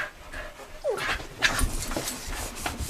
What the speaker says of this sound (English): The puppies is back.